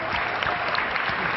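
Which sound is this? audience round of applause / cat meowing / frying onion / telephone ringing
audience round of applause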